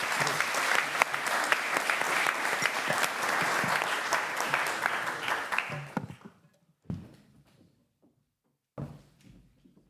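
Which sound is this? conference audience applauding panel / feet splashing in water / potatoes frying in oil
conference audience applauding panel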